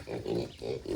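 Large, well-grown farm pigs grunt up close, three deep, rough grunts in quick succession with no talking.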